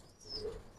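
A male pigeon gives a single soft, low coo, close by but quiet, in a short isolated moment with no talking.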